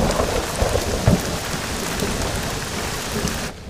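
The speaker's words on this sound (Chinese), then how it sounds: "这雨下这么大" Heavy rain pours in a steady dense hiss with low rumbling, constant and close, ending abruptly.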